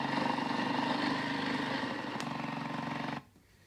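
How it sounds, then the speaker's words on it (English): A motorcycle engine running just after a push start, idling loudly and steadily close by with a rapid even putter, then cutting off abruptly near the end. "So that's me push starting my motorcycle."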